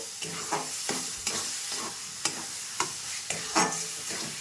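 A spatula stirs cabbage paste frying in a wok, making repeated scraping strokes about every half second over a constant close sizzle, with no voices.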